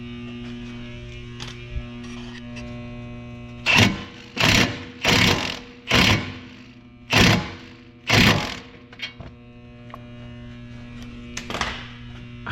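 Impact gun tightening axle nuts on a 2013 Ford Escape AWD front axle repair, six loud rattling bursts in a row, each about half a second, with a fainter one at the end over a steady electrical hum.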